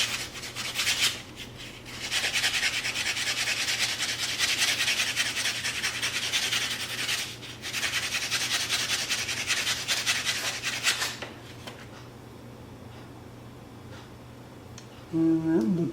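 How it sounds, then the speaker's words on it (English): The edge of a 90% silver coin ring is sanded by hand in steady, close abrasive rasping strokes, with brief pauses, before the scraping stops and only quiet background remains. "I'm going to sand this edge and look for cracks or any other imperfections."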